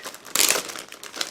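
Plastic bag holding sprues from a 1/48 Eduard Bf 109G-6 model kit crinkles and rustles close by, with a louder crumpling burst in the middle and a smaller rustle near the end.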